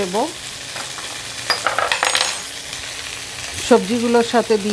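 Vegetables with green chillies and cashews fry in a pan with a soft steady sizzle and occasional stirring scrapes, close by, while a person talks briefly at the start and end.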